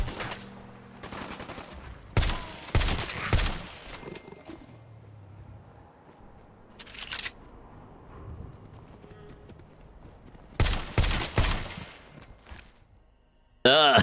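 Gunfire in Fallout 4 comes as sharp, loud bursts of shots in several separate clusters, with quieter game ambience and low rumbles between them.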